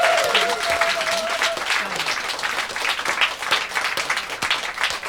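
A live audience at Green Note, an independent music venue in London, claps and cheers continuously, dense applause filling the room with a brief whistle near the start.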